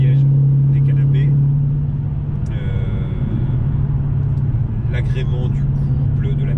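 Dodge Challenger Hellcat cruising on an open road, with a steady low engine drone and tyre rumble filling the cabin, while someone talks over it throughout.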